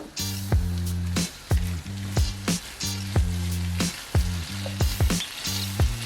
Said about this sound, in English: we are getting a nice little simmer going on with our medley of vegetables